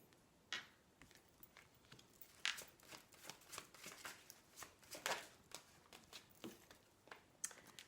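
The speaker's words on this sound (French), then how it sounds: "je vais faire sauter les cartes, je vais en prendre 5" Tarot cards are shuffled and cut in soft, quick bursts of riffling and flicking at close range. The bursts repeat irregularly and are quiet, with no talking.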